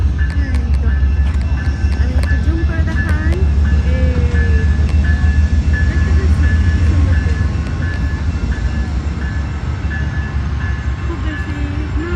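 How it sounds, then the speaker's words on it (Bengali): A train passes in the distance near a park, a steady low rumble with faint rail squeals running throughout, while a person talks over it. "ওই যে দেখেন দূর দিয়ে ট্রেন যাচ্ছে"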